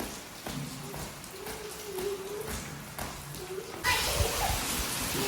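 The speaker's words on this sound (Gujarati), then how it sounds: "તો ભાઈ પાછો વરસાદ આવ્યો ને વખતે તો બહુ વધારે આવ્યો" Heavy monsoon downpour drums loudly and steadily on surfaces outdoors, a dense hiss that swells even harder near the end, with no clear voices over it.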